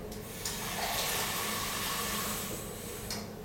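Water poured from a measuring jug into a dish of rice with a little turmeric, a steady splashing trickle lasting about three seconds, close and moderately loud before tapering off.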